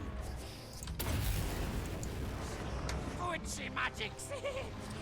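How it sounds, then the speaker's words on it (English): Artillery mortars fire in a fantasy battle game against Clanrat infantry, a broad rumbling boom breaking out and rolling on as a dense, steady wash of battle noise while someone talks over it. "Alright, now the artillery shooting."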